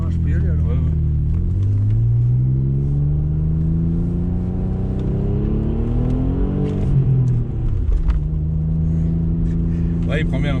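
A 1999 Audi S4 B5 with a V6 biturbo engine accelerates, its heard-from-inside engine note climbing and dropping through gear changes as a loud continuous rumble, with people talking over it.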